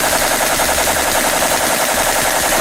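An AK-47 rifle fires outdoors at a Christmas tree in a loud, rapid automatic stream of sharp cracks that runs without pause for the whole stretch.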